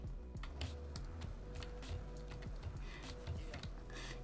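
Someone types on a computer keyboard while playing a skateboarding puzzle game with keyboard and mouse, the quiet key presses tapping in an irregular, continuous patter close to the microphone.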